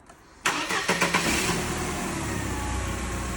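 A Mercedes W202 car engine cranks briefly and catches, starting with a sharp burst and settling into a steady, close idle hum.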